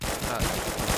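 Rapid automatic gunfire during a bank robbery in a video game, a dense burst of close, loud repeated shots over about a second.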